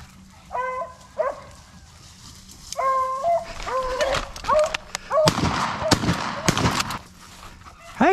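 Several sharp barks and yelps from hunting dogs chasing rabbits come in bursts, some loud and close, mixed with excited howling cries and rustling movement outdoors.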